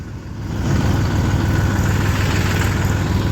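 Tractor engine idling steadily with a sugarcane trolley hitched, a loud, continuous low rumble close by with no talk over it.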